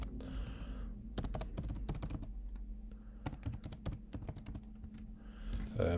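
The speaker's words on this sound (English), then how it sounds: "So if we type show running config" Rapid bursts of keystrokes on a computer keyboard as a command is typed into a Cisco network switch, irregular clicks in quick clusters with short pauses, close and clear over a low steady hum.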